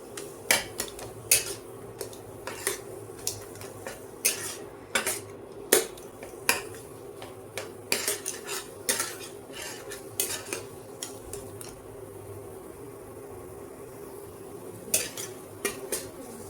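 Khoya being stirred and roasted in a pan for gujiya filling, a spoon scraping and tapping against the metal in irregular strokes over a faint low sizzle; close, with no talk.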